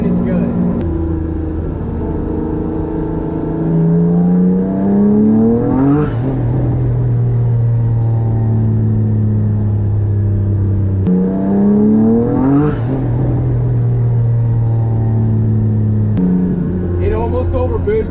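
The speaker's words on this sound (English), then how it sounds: "I'm gonna do a boost pull with the front engine and make sure everything is perfect" Twin-engine boat revving hard on its front engine during a boosted pull, a loud steady engine drone with rising and falling harmonic sweeps as the revs climb and drop twice, close and continuous.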